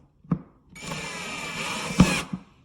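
A VIWKO 20V cordless drill driver whirs steadily for about a second and a half as it drives a screw into a door hinge, with soft knocks of handling just before and after the burst.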